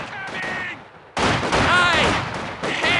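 Machine-gun fire rattles in rapid bursts during online gameplay of Company of Heroes 2, with a brief lull before a louder, sustained stretch of battle noise mixed with shouted soldier voice lines.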